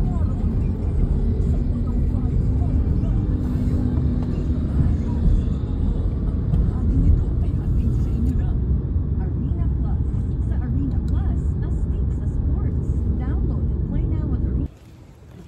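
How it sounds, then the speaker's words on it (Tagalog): A car driving in road traffic on an election-day holiday in the Philippines, with a steady loud engine and road rumble that drops off sharply near the end; speech is heard in the cabin. "Traffic."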